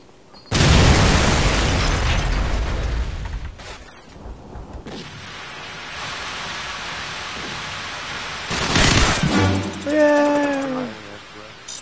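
A grenade goes off in Call of Duty 4: a loud explosive burst followed by roaring, crackling noise that keeps rumbling and dies down in waves, with a second burst and people talking near the end.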